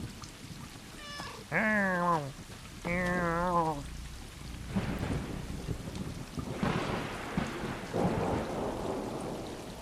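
A cat in the video game Stray meows twice, loud and close, with rain and rolling thunder rumbling underneath and carrying on after the cries.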